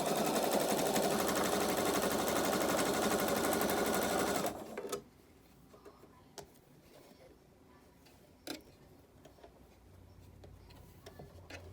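A sewing machine stitching the seam of a six-panel welding cap runs in a loud, steady whir for several seconds, then stops, leaving quiet handling clicks and taps.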